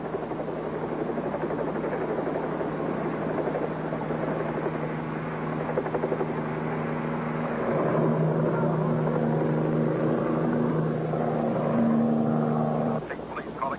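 A helicopter flies steadily overhead, its loud rotor drone and engine whine continuous throughout, rising slightly partway before easing near the end.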